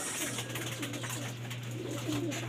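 Pigeons cooing in a low, soft, continuous murmur, faint and somewhat distant, over a steady background hum with no voices.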